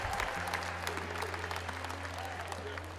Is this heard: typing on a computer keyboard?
no